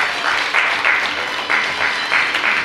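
An audience applauds at a bellydance contest in Ukraine, with bursts of clapping swelling and easing in waves, loud and close.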